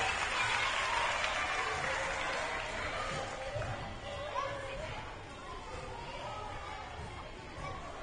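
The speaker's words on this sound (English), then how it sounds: "give them one more round of applause" Broad applause from a crowd at a primary school sports awards night fills the space at moderate distance, with voices chattering through it as the clapping gradually tapers.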